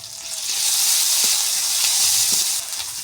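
Chopped and ground onion with five-spice seeds frying in hot oil for a rohu fish curry, giving a steady loud close sizzle that swells as the ingredients hit the pan, with faint clinks beneath.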